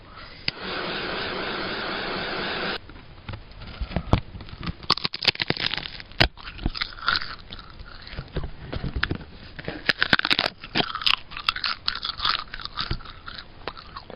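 A steady whirring hum fades out, then close, crisp crunching bites of a brittle snack follow one after another with quiet chewing.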